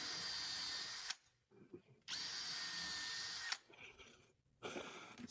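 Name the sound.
power drill with long 1/8 inch drill bit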